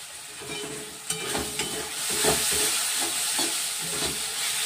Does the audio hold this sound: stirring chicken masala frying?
yes